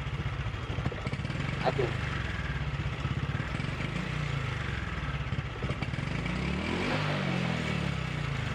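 A fuel-injected motorcycle engine sputters and stumbles when the throttle is blipped at low RPM, a loud, rough, uneven running beat with brief revs, while someone talks over it.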